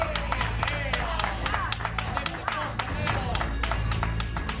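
Applause from a TV show studio audience, steady dense clapping with scattered cheers running throughout, with a host's voice speaking over it.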